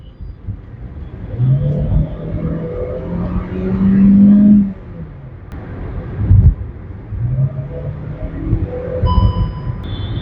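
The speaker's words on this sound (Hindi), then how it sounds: "एस मोड में ये थोड़े ज्यादा आरपीएम तक आ जाता है इसका इंजन" A car with an IVT automatic gearbox revs under hard throttle in sport mode, its engine rumbling up to higher rpm with a rising drone that swells, eases off and then builds again. The engine is close and loud, with no talk over it.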